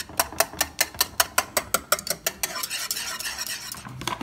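A mixture whisked in a bowl for cake batter: quick, sharp, evenly spaced clinking strokes, about five per second, close and loud, then a smoother continuous swirl.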